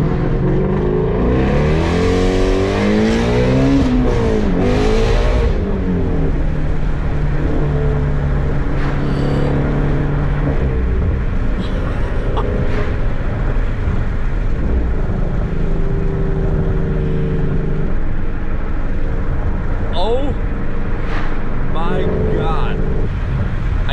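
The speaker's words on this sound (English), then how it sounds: "This is the flat plane crank V8 that everybody hyped up" A Ford Mustang GT350's flat-plane-crank V8 revs hard in a series of rising, high-pitched surges, with a voice breaking in now and then.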